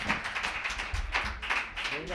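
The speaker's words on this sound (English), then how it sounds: "keep that applause going for Ricardo" Audience at a Sacred Voices open mic applauding a performer: steady close clapping through the whole stretch, with a host's voice talking over it.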